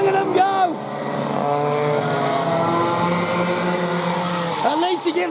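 Mini Max racing karts driving flat out in a final, their engines a loud continuous whine that rises and falls under excited commentary.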